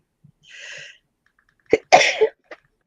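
A single sharp, loud human sneeze up close, with a brief intake of breath before it and a small after-sound, in a quiet room with no talking.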